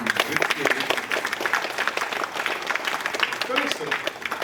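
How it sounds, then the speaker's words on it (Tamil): A crowd clapping at a temple function for a Shiva temple in Palladam, a dense, uneven patter of hand claps sustained throughout, with voices audible beneath it. "எல்லாரும் சாமிக்கு ஒரு நல்ல கைதட்டு தட்டி"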